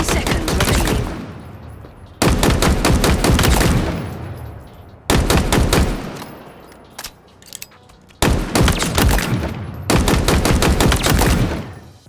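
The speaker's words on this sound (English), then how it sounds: "We then have the VK-78 Commando, which is technically speaking a new weapon, but it basically behaves like the DMR of old." VK-78 Commando rifle fired in Halo Infinite: loud, close bursts of rapid rifle shots in four separate strings, each ending in a short decaying tail, with brief quiet gaps between bursts and no talking.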